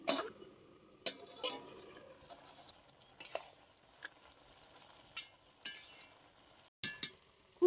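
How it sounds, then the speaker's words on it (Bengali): A metal lid clinks and rattles against a pot of boiling bottle gourd. There are several sharp, close metallic knocks spread out, with quiet cooking noise between them. "লাউটা সেদ্ধ হয়েছে কিনা খুলে দেখব।"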